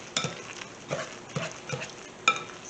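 Ingredients for keto chorizo cotija are whisked together in a bowl, giving a series of five or so brisk, scraping strokes with light clinks against the bowl, fairly close.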